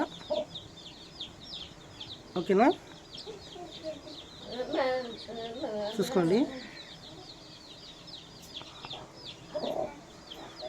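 Short-nose long-tail chicks offered for sale chirp and cheep in scattered, quick bursts at close range, fairly faint, while someone talks over them.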